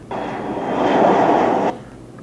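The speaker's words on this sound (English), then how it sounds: "So you hear the plane coming in." An airplane comes in as a film sound effect, a loud broadband engine roar that swells to a peak and then cuts off abruptly, heard alone without talk.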